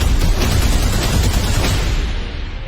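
A loud, sustained explosion sound effect: a dense, rumbling roar that holds steady for a couple of seconds and then slowly fades, with no voices over it.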